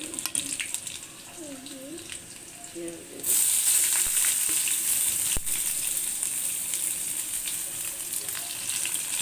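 Garlic and cumin hit a hot pan for Bengali masoor dal, bursting into a loud, steady sizzle that continues for several seconds, preceded by quieter stirring and faint background sounds.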